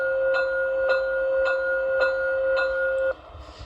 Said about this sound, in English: on all modern variations of this particular locomotive, they use a powered bell versus a swing bell